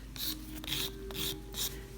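Gel nails being filed with short rasping strokes, four distinct bursts in a steady rhythm, close and moderately loud over a faint low hum, with no voices.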